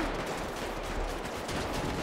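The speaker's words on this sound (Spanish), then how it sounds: "Tiros a mano derecha." Video game gunfire off to the right, faint and distant, a continuous rattle of overlapping shots with no clear gaps.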